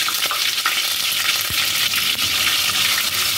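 Garlic paste fries loudly in a hot pan after cardamom, a dense close sizzle with a few soft stirring scrapes and one low thump.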